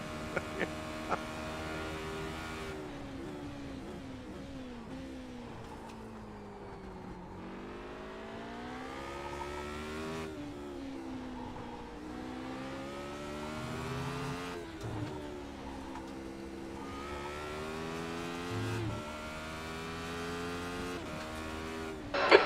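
A Radical SR8 race car engine in the iRacing sim at Okayama revs up and down through gear changes across repeated laps, steady and prominent, with occasional tire squeal and faint voices talking underneath.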